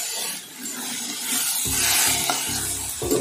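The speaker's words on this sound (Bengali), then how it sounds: "একটু বাদাম ভাজছি" Peanuts frying in a home kitchen pan, a steady soft sizzle with stirring scrapes and a few brief clatters toward the end, close and moderately loud with no talking.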